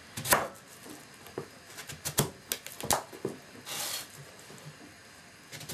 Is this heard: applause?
no